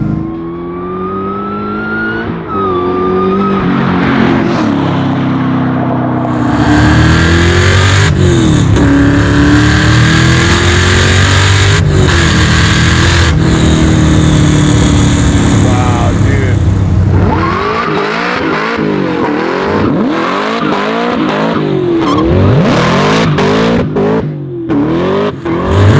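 A supercharged 900 hp LS7 custom 1966 Chevy with loud exhaust roars through repeated hard revs and rising gear pulls during a burnout in third gear, very loud and close, with sharp bursts and fluttering pops toward the end.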